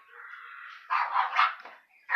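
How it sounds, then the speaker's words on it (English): Dogs indoors barking and yipping at close range, a thin whine leading into a burst of several loud barks, then a brief pause and another sharp bark at the end. "Sorry, my dogs are being butt heads."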